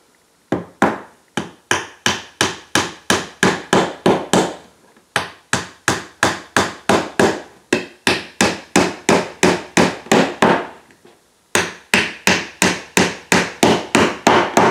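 Wooden birdhouse kit pieces being tapped into place, rapid sharp wooden knocks in quick bursts of about ten blows each, separated by short pauses, loud and close.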